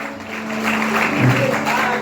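A church congregation claps during a morning service, a steady broadband wash of applause that builds after the first half second, with sustained musical tones humming underneath.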